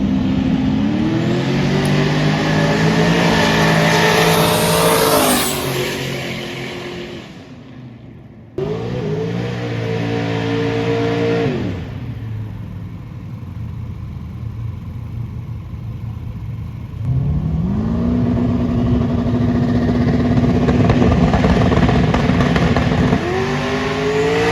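A Toyota Supra launches hard out of the hole, its engine revving up loudly and close, cutting off, then pulling again in long rising surges separated by a brief quieter idle-like stretch.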